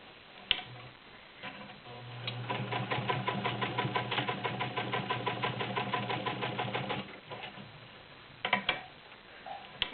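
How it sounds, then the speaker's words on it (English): A vintage all-metal Imperial heavy duty sewing machine with a size 16 needle stitches through six layers of denim, a loud close run of rapid, even mechanical ticking for several seconds, with a few separate clunks before and after. "I'm going to do some heavy duty stuff for you. I'm going to start out with, this is 6 layers of denim."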